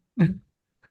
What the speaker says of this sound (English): You were coughing